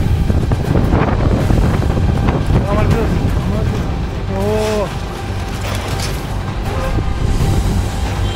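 Strong wind buffets the microphone beside the sea, a loud steady roar with gusty rumble throughout; a voice briefly talks in the middle.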